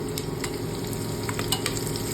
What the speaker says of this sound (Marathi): आपल्याला मिरची जरा फ्राय करून घ्यायची